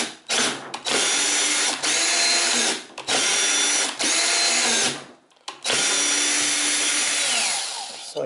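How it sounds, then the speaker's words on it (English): Power drill on low speed driving a self-tapping screw into an OpenBuilds Nema 23 lead actuator build, loud and close, whirring in several long runs separated by short stops. "I'm just going to take the self-tapper and I'm going to, using my drill on low, I'm going to run it back and forth a few times"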